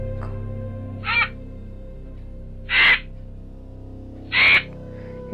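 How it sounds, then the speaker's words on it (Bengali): A crow caws in three loud, separated calls over a low droning background, used as a sound effect in a Bengali horror story about an abnormal black crow; no speech. "সেই কাকের ডাক"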